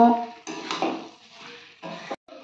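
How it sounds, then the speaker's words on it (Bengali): A spoon scrapes and clanks around a pan as chicken kosha is stirred with garam masala, with short bursts of metal-on-metal separated by pauses and a soft sizzle underneath. "গরম মশলা গুঁড়োটা দেওয়ার পর ভালোভাবে এটা নেড়ে দেব।"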